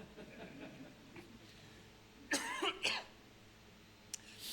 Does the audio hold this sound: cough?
yes